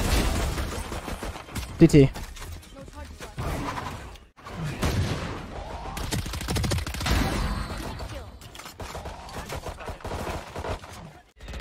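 Rapid bursts of automatic gunfire spray in the shooter game Valorant, loud and dense, clustered across the span with brief gaps, while a player talks over the shots.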